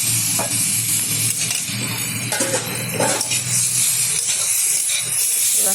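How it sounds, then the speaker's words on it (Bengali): Rita fish roe frying in a pan, a steady loud sizzle and hiss with scattered pops and faint utensil clinks, close and continuous with no talking. "আমি ভেজে নিচ্ছি ডিমগুলো কিন্তু ফাটা শুরু হয়ে গেছে"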